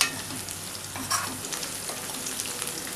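Fried potatoes with peas and green chilies sizzling in a pan, a steady close crackle with a brief stirring scrape, no talk.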